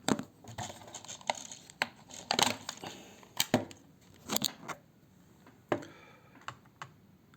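Screws being removed from a Posturite Penguin ergonomic vertical mouse during disassembly: a run of sharp, close plastic-and-metal clicks and ticks at an uneven pace, some louder than others, with no talking.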